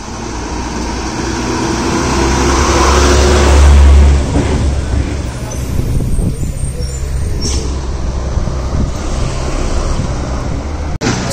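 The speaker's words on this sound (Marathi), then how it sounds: "सहलीच्या गाड्या आहेत." School trip buses and other vehicles pass along a road near the Marleshwar turnoff in Konkan, making a loud continuous engine rumble and road roar that swells around the fourth second, with brief voices in the background.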